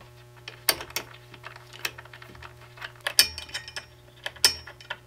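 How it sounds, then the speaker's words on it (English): Allen wrench tightening M5 bolts on the aluminum frame of a Genmitsu 4040 Pro CNC machine, heard as close, faint metallic clicks and ratcheting ticks in an irregular series, with no talking. "come back with your Allen wrench and make sure all of those are nice and tight"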